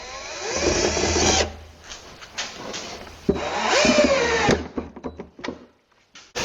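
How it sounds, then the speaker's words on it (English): A power drill drives 1-inch pocket hole screws into oak drawer fronts for a wardrobe, giving several close whirring bursts that spin up and wind down, separated by short pauses and clicks. "attaching the drawer fronts using their 1-inch pocket hole screws"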